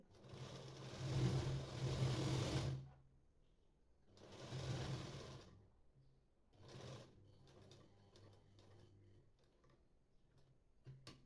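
A sewing machine runs in three separate bursts, stitching lace onto a blouse neckline. Each burst is a fast, close whirring, with the last one shorter and quieter, and soft ticks in between.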